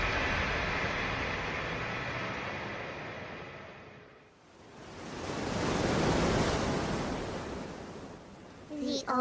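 Ocean surf washing onto a beach hidden inside a dungeon in a fantasy anime: a steady hiss of water that fades, then swells into a broad, rushing wave surge that builds and holds.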